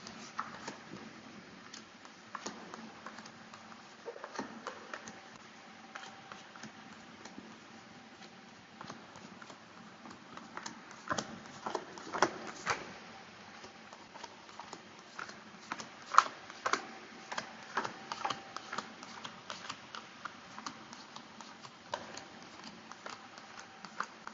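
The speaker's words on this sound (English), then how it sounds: "I'm just going to count cards." A deck of reading cards is counted by hand, giving a steady stream of soft, close flicks and taps that quicken in places over half a minute, with no talking.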